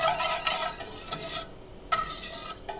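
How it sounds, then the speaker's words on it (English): Pecan pie filling for keto no-bake bars stirred in a pot at a slight boil, a steady scraping and swishing with a soft bubbling sizzle underneath, close and continuous with brief pauses. "we're stirring this until it becomes a little thicker"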